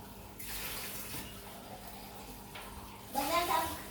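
Tap water runs into a hand-sanitizer container being rinsed out, a steady soft rush at low level that swells near the end, with people talking over it.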